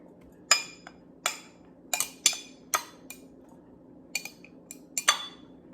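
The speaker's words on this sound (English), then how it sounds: "And then you're going to take your dish of butter and just add it to the mixture." Butter slices from a small dish knocked into a mixing bowl, a series of sharp clinks and taps of a utensil against dishware, irregularly spaced and close, with no talking.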